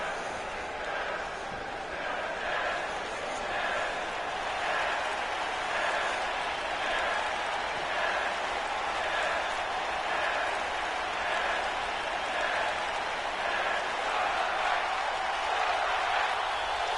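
A wrestling arena crowd in the WWE 2K19 video game, a steady, moderately loud roar of cheering and applause with rhythmic swells running throughout.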